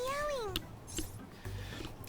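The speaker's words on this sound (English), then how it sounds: "It's a stuffed animal. Yeah, it's just a toy. It meows when you press on its head." A stuffed toy cat in Persona 5 Royal gives a short, bright meow that sweeps downward, followed by faint game sounds.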